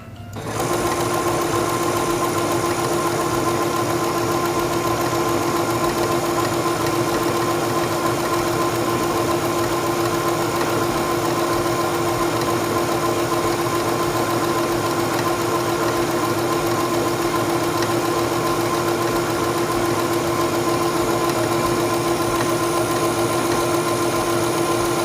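Singer 7258 computerized sewing machine stitching fabric, a fast, even mechanical whirr with steady needle clatter that runs continuously and loudly, with no talking.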